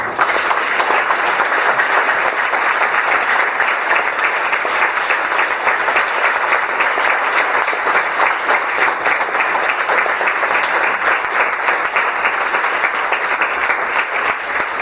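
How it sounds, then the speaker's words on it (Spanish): A church congregation breaks into steady, loud applause for the Lord after a prayer, a dense unbroken roar of many hands clapping that holds evenly for about fifteen seconds. "Denle un aplauso al Señor"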